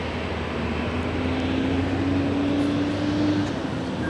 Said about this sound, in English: It's a 737-800.